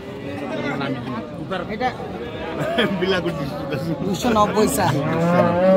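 A Friesian cow with her calf moos repeatedly at a busy cattle market in Tangail, her calls rising over a steady babble of nearby people chatting and bargaining.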